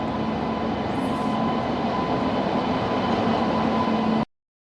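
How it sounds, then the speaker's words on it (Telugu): A train rolls into the station with a continuous loud rumble and rattle of wagons, close and steady, ending abruptly. "ఇంకా మన ట్రైన్ అయితే వచ్చేసింది అనమాట"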